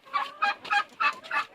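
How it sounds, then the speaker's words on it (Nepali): Local chickens on a farm give five evenly spaced, loud calls in close succession, each a short harmonic squawk, with no talk. "यहाँ पनि रहेछ लोकल कुखुरा।"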